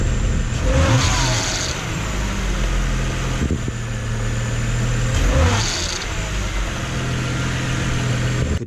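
A BMW 335i with the N54 engine running with its pulleys and belt spinning, a steady, loud, close mechanical hum and whir with slight swells, no speech.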